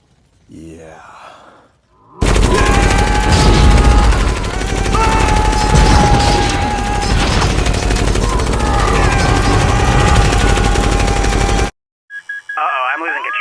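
Rapid, dense gunfire rattles loudly in a fight against a helicopter in the video game Uncharted 2: Among Thieves, a sustained barrage with engine drone and game effects, briefly framed by quieter game sounds.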